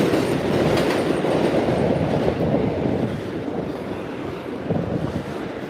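Coney Island bound R160 subway train rushing past at Avenue X on the F line, loud rumbling and clickety-clack with wind buffeting the microphone, easing off as it moves away.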